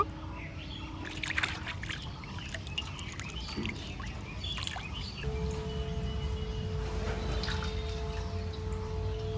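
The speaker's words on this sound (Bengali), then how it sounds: "পিস পিস করে কেটে কলতলায় আসলাম এখনো কয়েকবার ধুয়ে নিয়ে যাচ্ছি" Cut fish pieces are rinsed under running tap water at an outdoor washing spot, with splashing and dribbling water giving way to a steady gush from the tap, close by.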